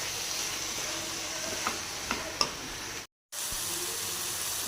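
Masala stuffing scooped from tinda gourds fries with chicken in a pan, giving a steady close sizzle with a few light stirring clinks and one brief silent break.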